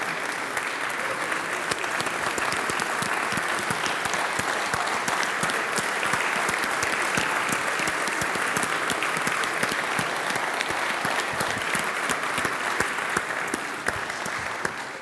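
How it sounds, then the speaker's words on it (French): A hall audience at a federal congress general assembly gives long, steady applause, with many close crisp claps blending into a continuous roar for about fifteen seconds. "Vous pouvez l'applaudir bien fort"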